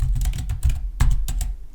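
Keys tapped on a computer keyboard during editing work in DaVinci Resolve, a short burst of several close, crisp clicks in an uneven rhythm with no talk.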